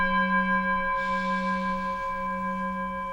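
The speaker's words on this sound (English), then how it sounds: "So when I gong, we'll start breathing in from the earth." A gong rings out in a breathing-exercise session, its struck tone sustaining as a smooth, steady shimmer that lingers without fading much over a few seconds, with no talking.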